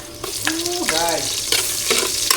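Garlic and onion sizzle in a hot pan as they are sautéed, a steady crackling fry broken by a few stirring scrapes, close and moderately loud with no talking.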